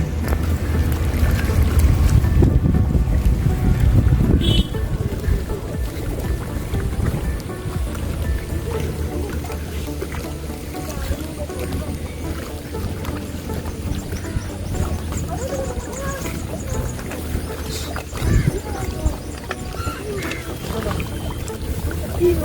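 A passenger boat with chairs aboard cruises across Vembanad backwater near Kainakary boat jetty; the engine's low rumble and water wash run steadily throughout while people talk on board.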